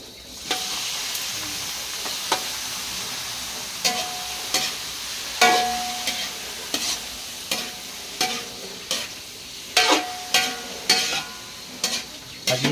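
Liver and chicken gizzards sauté in a hot pan, a steady close sizzle and hiss with repeated sharp scrapes and stirs of a spatula at a fairly regular pace, no talking.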